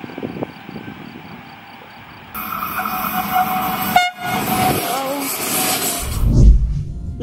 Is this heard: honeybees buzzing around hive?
no